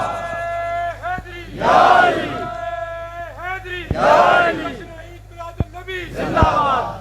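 A crowd at a religious gathering roars chanted slogans in three loud swelling bursts, answering a sustained lead voice that carries between the shouts.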